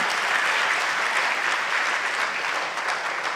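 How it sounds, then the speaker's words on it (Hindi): An audience at a motivational talk claps together, a dense, even roar of applause lasting the whole stretch. "ताली तो ठीक से बजा लो भैया"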